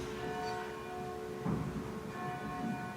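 A bell tolls during a stage production of Macbeth, its faint, sustained ringing tones lingering with a second stroke midway, distant and alone without talk.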